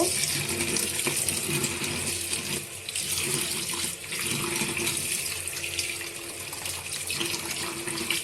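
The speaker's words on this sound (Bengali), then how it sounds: "তো আমি এখানে ব্রেনগুলো ধুয়ে নিব ভালো করে ধুয়ে আমি পরিষ্কার করে নিব" Goat brains being rinsed under a running kitchen tap, with a steady, continuous splash of water into the sink throughout and no talking.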